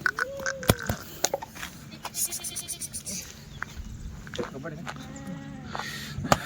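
Kathiawadi goats bleat in a few wavering calls among livestock noise, with people talking nearby and occasional sharp knocks.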